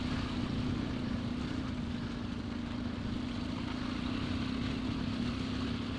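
An off-road trail motorcycle engine held on a steady light throttle while riding through thick, wet mud, a constant droning hum with an even pitch, close and continuous, no speech over it.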